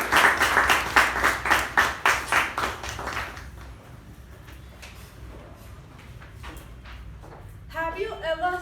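Roughly a dozen loud, rhythmic claps from a small Toastmasters meeting group rise and fade over about three seconds, then quiet room sounds, and a voice begins speaking near the end.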